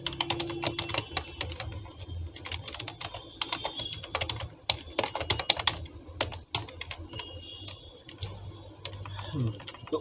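Someone types code on a computer keyboard in quick irregular bursts of close, crisp key clicks, with short pauses between runs.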